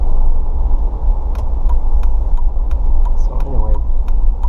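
Car cruising through a neighborhood with a steady low engine and road rumble inside the cabin, faint clicks over it and a brief rising tone near the end.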